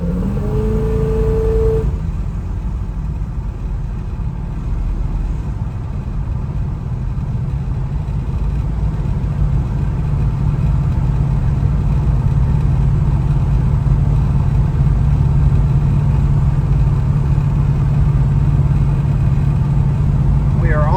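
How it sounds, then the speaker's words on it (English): A 1967 Chevrolet Camaro drives along with its engine running steadily, a loud, constant low rumble filling the cabin throughout, with occasional talk over it. "just an excellent running driving car"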